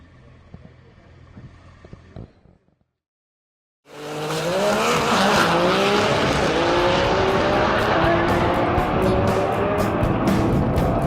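A Nissan GT-R starts with faint idle-like rumble, drops to near silence, then bursts into a loud, sustained tire squeal and roaring engine as the tires spin and smoke, close and continuous to the end.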